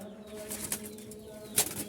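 Jalali pigeons flapping their wings indoors in their loft, a few quick bursts of fluttering wingbeats near the listener, sharpest in the middle and again near the end, over a quiet background with no talk.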